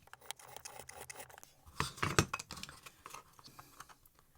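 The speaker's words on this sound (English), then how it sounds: "this card is somewhat harder to cut through" A scalpel cutting through mount card for a model railway yard office, with repeated short scratchy scoring strokes and faint clicks, close and quiet, a denser cluster of cuts midway, no talking.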